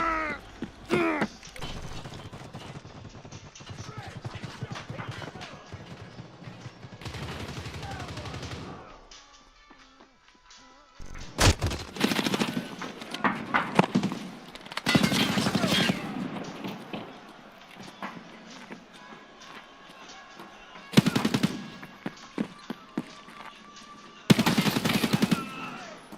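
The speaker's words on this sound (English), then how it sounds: "That fucking rifle's got a lot of kick, dude." Rapid rifle gunfire in a video game comes in repeated loud bursts, some sustained and some short, separated by brief quieter gaps.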